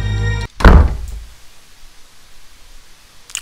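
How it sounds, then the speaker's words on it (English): A single heavy, muffled thud lands loudly and abruptly inside the horror video game Clap Clap, cutting off a droning background, then fades into quiet room noise. "What was that thud?"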